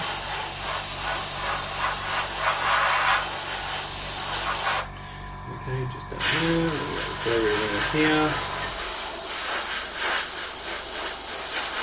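A loud, steady airbrush hiss sprays paint on a 1/32 scale F-14D Tomcat model kit, cutting out briefly while a person says a few words, then resuming.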